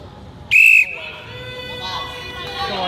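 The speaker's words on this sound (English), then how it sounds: "On the whistle." A referee's whistle blasts loud and alone for about a third of a second to start a women's strongman press event at the 2024 Official Strongman Games, followed by steady crowd hubbub and a faint announcer.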